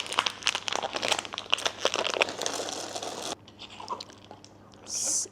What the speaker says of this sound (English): It sounds like a clacky keyboard, all the chips mixing in.